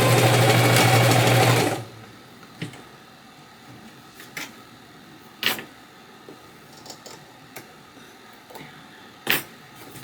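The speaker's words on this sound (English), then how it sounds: "I'm going to stitch right along the edge with a small zigzag stitch, so just to keep it from fraying." A sewing machine runs a small zigzag stitch along the edge of a vintage handkerchief: a loud, fast mechanical whir for under two seconds that then stops, followed by sparse quiet clicks.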